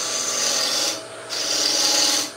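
A 1/8 wood carving gouge shaves wood to shape the bottom of a carving, making two close, loud rasping strokes separated by a brief pause, with no talking.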